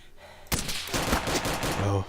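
Gunfire in the survival game DayZ, a sudden loud burst of rapid shots crackling for over a second after a quiet start, with a voice faintly present.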